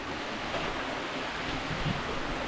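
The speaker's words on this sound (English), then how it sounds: "Beautiful river." A river flows steadily outdoors, giving a continuous, even broadband rush of water with no breaks, fairly close and loud, alone without voices.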